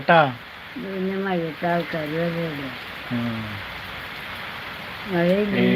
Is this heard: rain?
yes